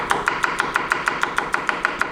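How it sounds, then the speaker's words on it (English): A knife chops food quickly on a cutting board while pasta is being made, about a dozen sharp, evenly spaced strikes at a steady fast rhythm, close and clear with no talking. "When you guys get good, you can just do the chopping effect."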